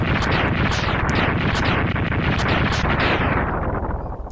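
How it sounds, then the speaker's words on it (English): A crashing explosion from the Mega Man X3 video game, a dense, loud burst of noise sustained throughout with rapid crackling blasts and no voices. "it crashes and explodes right on top of Zero"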